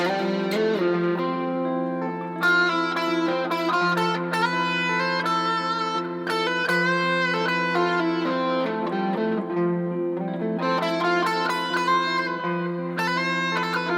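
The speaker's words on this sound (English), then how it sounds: "This is the Lydian sound you're hearing now." An electric guitar with distortion plays a continuous, flowing melodic line in Lydian mode over sustained low tones, dreamy and bright, with no voices.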